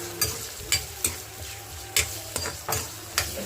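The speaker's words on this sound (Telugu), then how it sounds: "వాటిని బాగా వేయించాలి." Onions and green chilies fry in a pan, giving a steady close sizzle broken by several sharp stirring scrapes spaced through the clip, with no talking.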